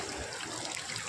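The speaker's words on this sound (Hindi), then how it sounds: "देख सकते हैं वाटरफॉल दिखा रहे हैं और आपको" Steady broadband rush of water pouring at Vindam Falls waterfall near Mirzapur, Uttar Pradesh, India, a continuous dense wash with no break and no voices.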